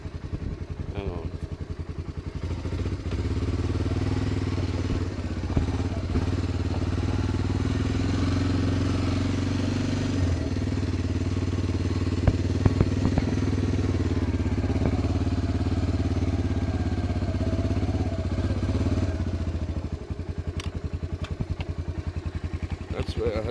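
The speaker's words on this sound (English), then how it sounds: "I've got the engine running, haven't I?" A small engine, likely a pump or motorbike, runs steadily beside a rain-swollen burn used for gold sluicing, a constant loud drone with clatter throughout, while someone talks over it.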